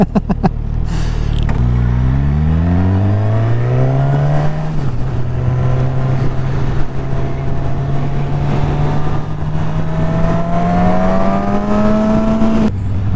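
A 2019 Suzuki Katana motorcycle engine accelerates hard on the road, its note rising through the gears in a loud, steady climb with a shift near the start, heard up close with wind noise.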